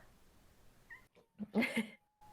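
A cat gives a short series of high-pitched, strained meows, close and fairly loud, with brief quiet gaps between the calls.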